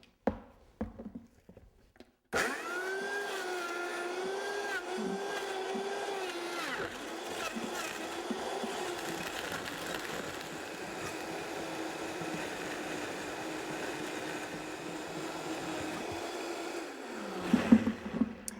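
A blender whirs through lime shake ingredients before any ice goes in, starting abruptly after a few faint handling knocks. The steady motor wobbles in pitch at first, then holds evenly for about fifteen seconds before cutting off.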